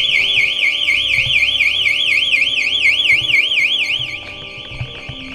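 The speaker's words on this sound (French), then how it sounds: "on passe devant des alarmes, ça sonne, on s'en fout" Alarm ringing inside an abandoned building in Greece: a loud, piercing electronic tone that warbles rapidly up and down, close and continuous, fading slightly near the end with faint shuffling beneath.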